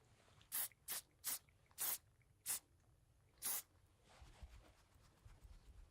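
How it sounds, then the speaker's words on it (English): Six short bursts of aerosol hairspray hiss in an uneven sequence, close and fairly quiet, followed by soft handling noises. "So I'm just gonna spray a little."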